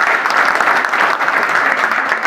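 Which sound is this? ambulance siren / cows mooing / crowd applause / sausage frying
crowd applause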